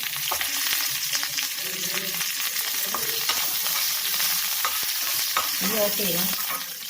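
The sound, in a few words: curry leaves frying in oil for tempering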